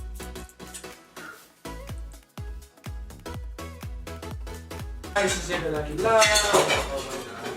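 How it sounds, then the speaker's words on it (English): Dishes, pots and cutlery clatter in a home kitchen as someone washes up, with repeated sharp clinks and knocks building into busier rattling and running water near the end. "I need you to not do the dishes while I'm filming"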